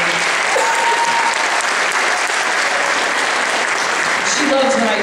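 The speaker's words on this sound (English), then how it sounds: "So please give them a round of applause" Loud, dense applause from a school Christmas concert audience, steady and sustained throughout with faint voices underneath.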